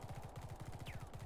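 Rapid automatic gunfire in the sci-fi tactical game The Red Solstice, a steady fast burst of evenly spaced shots, fairly faint and continuous, with a brief higher electronic sweep partway through.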